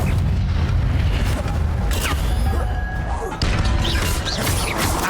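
A fire spell cast in the video game Hogwarts Legacy, a loud, dense burst of crashing, booming impact noise with whooshing flame texture, sustained throughout over heavy low rumble.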